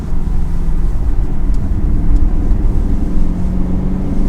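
A 2022 Lexus IS 500 engine pulls through a sharp turn, a loud, steady, muffled rumble with a deep low drone that holds throughout, close and unbroken.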